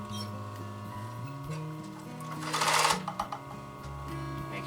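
A sewing machine free-motion quilts a test line on the selvage of cork fabric: a short, quiet burst of rapid stitching with a few ticking stops, set against soft background music.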